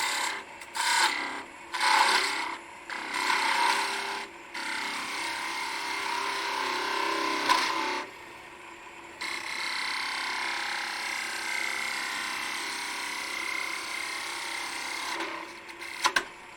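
A wooden scoop is turned on a lathe: a tool scrapes and rasps against spinning wood in short bursts, then in a longer steady cut, close and fairly quiet.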